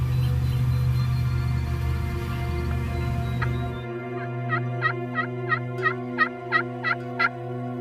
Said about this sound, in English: Haven't heard a gobble yet